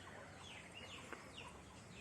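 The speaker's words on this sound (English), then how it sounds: "What about that chicken over there?" Farm chickens cluck softly at a distance, a few faint calls over a quiet outdoor background.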